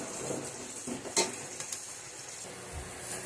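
Onions with garlic, chili and ginger paste sautéing in a pan, a steady close sizzle with occasional scrapes and clinks of a spoon against the pan.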